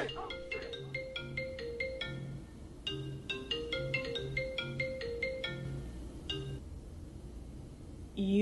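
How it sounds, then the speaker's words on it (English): A phone ringtone plays a bright, repeating melodic pattern for several seconds at moderate volume, with voices faintly present behind it. "Your phone's ringing."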